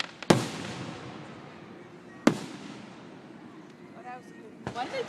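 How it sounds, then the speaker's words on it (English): Fireworks burst over Lake Wallenpaupack, two sharp loud booms a couple of seconds apart, each trailing into a rumbling decay, followed by fainter crackles and a distant pop. "Why don't you watch the fireworks?"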